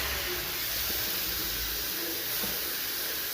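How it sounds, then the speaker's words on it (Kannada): Grated carrot fries in ghee for carrot halwa, giving a continuous, even sizzling hiss with a few faint pops and no voices. "ಇಷ್ಟು ಕ್ಯಾರೆಟನ್ನು ಅದರಲ್ಲಿ ಹಾಕಿ ಕ್ಯಾರೆಟನ್ನು ಸ್ವಲ್ಪ ಹೊತ್ತು ತುಪ್ಪದಲ್ಲಿ ಹುರಿಬೇಕು"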